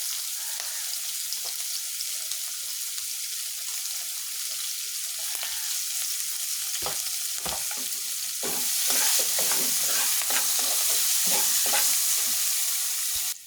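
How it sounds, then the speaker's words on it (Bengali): Chopped onions and sliced green chilies fry in oil with a steady, close hiss of sizzling that swells louder partway through, broken by soft scraping strokes of a spatula stirring the pan. "আমার পেঁয়াজ ভাজা শেষ"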